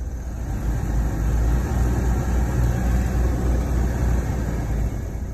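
A dashboard heater fan inside a vehicle runs with a loud, steady, broadband whooshing drone and a low rumbling hum that persists without a break from start to finish.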